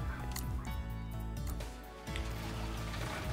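Concrete pours in a construction simulator game, a steady wet gushing and dripping flow with repeated squishy pulses, continuous at moderate level with a brief dip midway.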